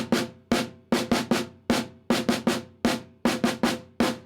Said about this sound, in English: The herta in itself sounds like this.